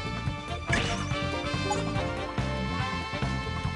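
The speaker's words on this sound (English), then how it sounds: "clearly make out the sound of things collapsing" In the Layton Brothers: Mystery Room game, things collapse and smash: a crash against a dense musical background, with a few sharp knocks following.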